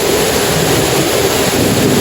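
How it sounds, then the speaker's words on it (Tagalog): A swollen river runs high near a dike after heavy flooding rain, a loud, constant roaring rush of water with wind buffeting the microphone, no voices. "So ito na, ito na yung ilog."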